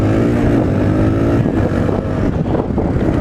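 Suzuki DR-Z 125L motorcycle engine running steadily while riding, a loud, continuous close-up drone with slight revving fluctuations and wind rush throughout.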